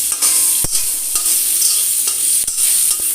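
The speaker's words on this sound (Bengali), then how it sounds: "এটা দিয়ে ভালো করে একটু নাড়াচাড়া করবো" Potato pieces and ground cashews stirred in hot oil in a cooking pot, a loud steady sizzle broken by sharp scraping thuds of the spoon against the pot.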